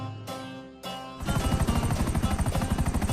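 A police helicopter flies close by, its rotor thumping in a fast, steady pulse after a short stretch of quieter engine hum, loud and alone without talk.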